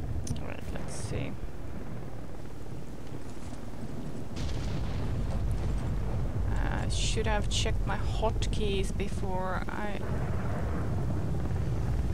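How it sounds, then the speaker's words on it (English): Thunder rolls through the Call of the Zone video game as a steady low, broadband rumble that swells in the second half, with someone talking over it throughout. "I think right now it's mostly thunder."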